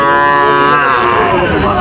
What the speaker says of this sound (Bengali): সুন্দর একটি বকনা বাছুর দেখতে পাচ্ছেন